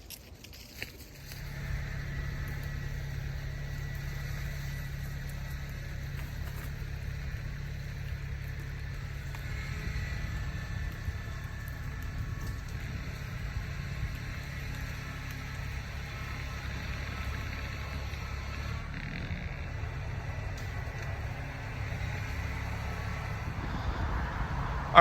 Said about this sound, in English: I'm gonna yank at it with the tractor.